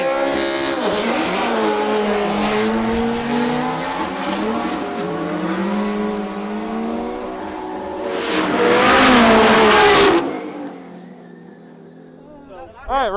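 A Formula Drift car at a drag race start, its engine revving in rising harmonic sweeps, then a loud surge of launch noise and tire roar before fading away, with voices talking over it.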